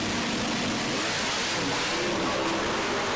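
A Dodge Challenger Drag Pak drag car launches down the dragstrip in a loud, unbroken engine roar that fills the whole stretch with dense, wide-band noise.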